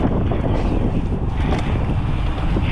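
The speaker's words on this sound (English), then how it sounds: "it's a little bit windy there on this bike" Heavy wind buffeting a microphone on an enduro mountain bike, a La Pierre Spicy, during a downhill ride: a loud, continuous low roar and rumble with no pauses.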